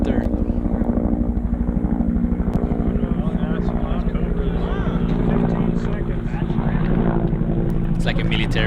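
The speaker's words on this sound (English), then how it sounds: "It's like a military helicopter." A large military helicopter passes over a Nordic enduro race, its rotor thumping in a loud, rapid, steady beat. A person talks over the noise.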